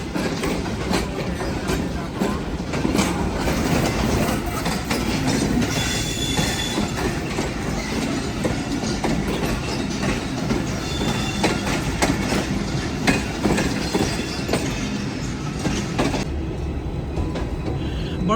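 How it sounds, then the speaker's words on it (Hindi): Shalimar Express train entering Rohri Junction, heard from aboard as continuous rumbling wheels, rattling carriages and brief high squeals, loud and steady throughout. "हमारी ट्रेन जो है रोड़ी जंक्शन पर एंटर हो रही है"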